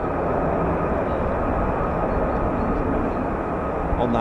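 F-15 or F-35 fighter jet flying at RAF Lakenheath, a steady, loud broadband roar that holds unbroken throughout, with no talk over it.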